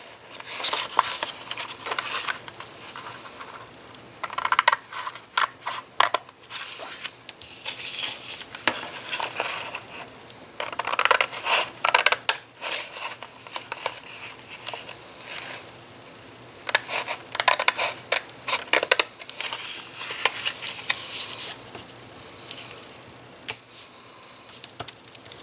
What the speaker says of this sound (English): You're just cutting up to that score line.